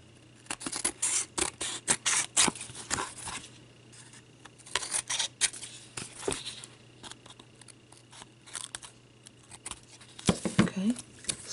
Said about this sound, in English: I'm just going to cut this right away just to save time.